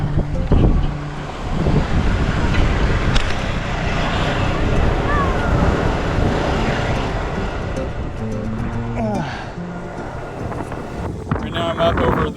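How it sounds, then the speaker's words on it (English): Strong wind gusting outdoors over an aviary as a large net is pulled over cables, a loud continuous roaring buffet against the microphone with people talking over it. "look at the wind. The wind is fighting us."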